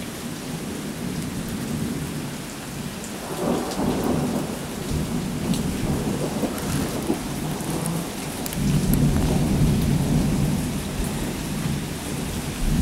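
A thunderstorm with steady rain pattering on surfaces and low rolling rumbles of thunder that swell twice, continuous and fairly loud with no voices.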